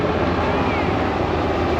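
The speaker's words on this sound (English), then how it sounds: "And so that looks like a military helicopter." A military helicopter flies over the beach, its broad, steady rumble loud and continuous, with people talking under it.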